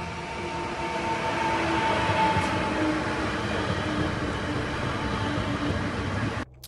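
A train pulling into a platform at night in fog, its steady rumbling roar and rail noise filling the whole stretch before cutting off abruptly at the end.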